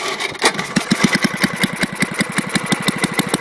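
An old snowblower engine catches and settles into a loud, close idle with a fast, even chugging rhythm of regular pulses throughout.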